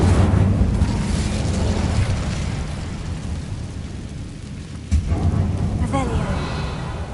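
A fiery Incendio spell cast in Hogwarts Legacy roars as a loud, dense, continuous blaze, easing slightly midway before a sharp burst flares back up near the end.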